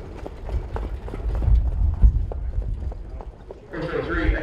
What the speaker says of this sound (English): Field of five trotters.